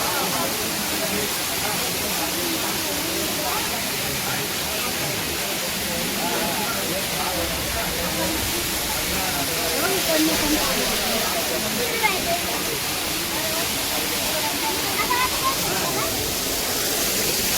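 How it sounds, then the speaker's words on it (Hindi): A waterfall near Tirupati gives a steady, close rushing roar of falling water. It holds evenly throughout, with faint voices blended into the wash. "वाटरफॉल के नज़दीक हम आ चुके हैं।"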